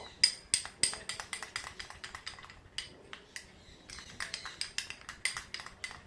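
A spoon mixing a face pack of gram flour, curd and honey in a small bowl, tapping and scraping in quick, fairly quiet clinks throughout.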